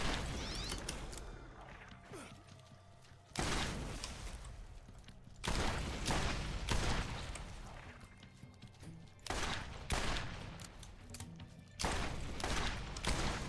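Sustained automatic gunfire from an infinite-ammo gun in Borderlands, dense rapid bursts in several long stretches with brief gaps between, loud and continuous with mechanical clatter mixed in.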